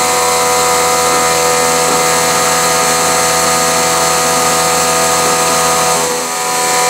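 A milling machine cuts metal at about 5,000 RPM with a 22 inches per minute feed, a loud continuous tonal whine and grinding drone that holds steady throughout and eases slightly near the end.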